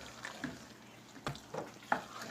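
Potato and taro curry with lemon is stirred in a pan, a few soft scraping strokes and light sizzling, quiet and close, spaced unevenly over a faint background, with no talking.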